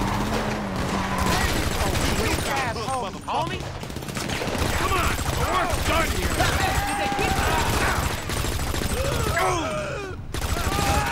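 Gunfire in GTA V on Grove Street, repeated rapid shots and bursts crackling over a steady game background, with a person talking intermittently through the exchange.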